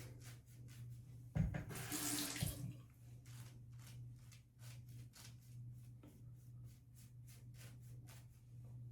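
Water from a tap runs briefly onto a shaving brush loaded with soap, a short splashing burst followed by quieter trickling and soft handling noises over a steady low hum.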